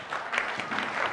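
Brief burst of applause from an audience at a Vaisakhi gathering, many hands clapping together in a dense, steady patter lasting about a second.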